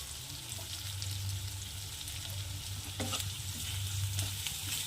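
Steady loud sizzling of ridge gourd bhaji frying in a pan, with a spatula stirring and scraping through the dry vegetable mixture, heard up close and continuously without speech.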